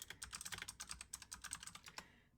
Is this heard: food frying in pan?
no